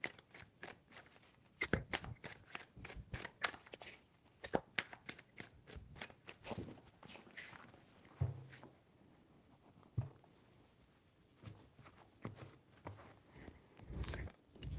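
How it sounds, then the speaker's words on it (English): Tarot cards handled and shuffled in quick crisp flicks and taps, close but quiet, with short pauses between bursts of papery snapping and no voices. "Three shuffles."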